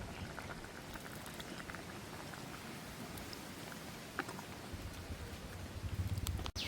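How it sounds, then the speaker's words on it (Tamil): Brinjal and dried fish curry bubbling in a pot, a close continuous seething and popping of thick liquid at low level, ending with a brief clatter. "உங்களுக்கு கறி நல்லா கொதிச்சு கொண்டு இருக்குது"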